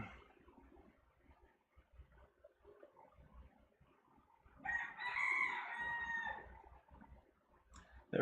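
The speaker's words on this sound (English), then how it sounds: "The rooster's really" A rooster crows once, loud and fairly close, in a drawn-out call over faint background noise, followed by quieter ambient sound.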